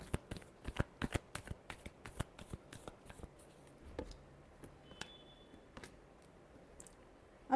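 Tarot cards are shuffled by hand in quick, crisp riffling flicks, close and fairly soft, thinning out into sparse taps toward the end.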